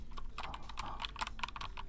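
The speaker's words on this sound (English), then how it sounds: "would you like some keyboard ASMR" Keys on a computer keyboard clatter in quick, irregular, soft close-up taps during a live stream, with no talking.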